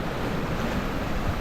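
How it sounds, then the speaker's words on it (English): Ocean surf crashing on the shore at Port Royal, a dense continuous wash of breaking waves with wind rumble across the microphone, loud and close. "Wave them is coming crashing in. The beautiful waves"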